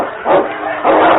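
A dog fighting a wolf pack gives two loud, close, rough snarling growls in quick succession, harsh and throaty with no talk.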